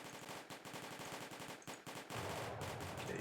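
Musket volleys rattle in Combat Directive: Napoleonic Wars at the Battle of Lappo, 1808. A rapid string of crackling shots swells into a dense, continuous roar of massed fire at moderate distance.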